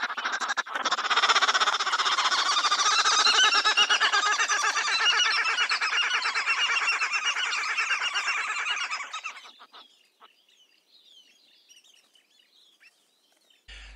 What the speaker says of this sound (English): It sounds very much like a bunch of geriatrics giggling about